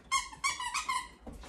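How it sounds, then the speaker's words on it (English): Squeaky plush squirrel dog toy squeezed several times, high rubbery squeaks in quick succession, close and loud, ending with a softer squeeze. "They have nice squeakers, too."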